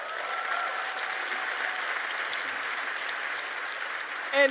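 A campus lecture audience at Indiana University applauds and cheers, a steady moderately distant wash of clapping that holds evenly throughout.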